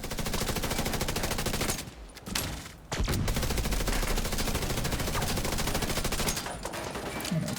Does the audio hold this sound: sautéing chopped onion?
no